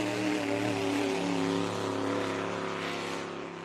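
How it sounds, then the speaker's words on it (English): A hydroplane racing boat at the E.C Griffith Cup roars with a strong, steady engine note that fades slightly as it heads away down the course. "Motor sounding super strong as he heads down to the extended race circuit."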